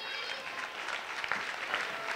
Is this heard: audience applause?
yes